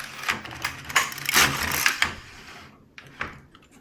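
A knitting machine carriage sliding across to knit one row of a sock, a rattling mechanical run that fades out and then gives a short clack.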